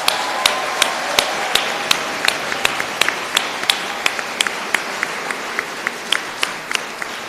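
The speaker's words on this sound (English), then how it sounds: "So let's give her a huge round of applause for that." An inauguration audience applauds Dr. Milagros Peña, the first Latina president of a SUNY college, with broad steady clapping from a large crowd and a few sharp, distinct claps standing out close by.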